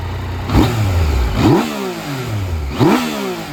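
A 2019 Yamaha Tracer 900GT motorcycle engine is revved in three short, evenly spaced throttle blips over a steady idle, close and fairly loud.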